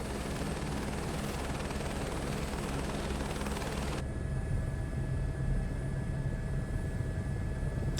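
A helicopter lifts off in Microsoft Flight Simulator 2024 with a steady, loud rotor and engine roar throughout; the tone shifts abruptly partway as the sound changes character.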